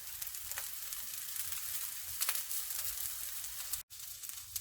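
Oyster pancakes (gul-jeon) fry in a pan over medium-low heat, giving a steady, close sizzle that runs throughout with one brief dropout near the end.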